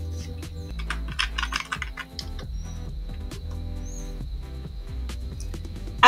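Typing on a computer keyboard while entering a search into a web browser: a rapid run of close, crisp key clicks in irregular bursts with no voices.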